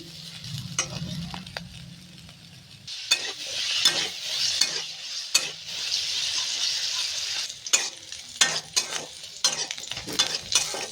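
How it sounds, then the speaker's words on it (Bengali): Cauliflower frying in a pan gives a steady, close sizzle that swells loud for several seconds, broken by repeated sharp scrapes and clinks of a spatula stirring the pieces. "ফুলকপিগুলো ভেজে নিচ্ছি"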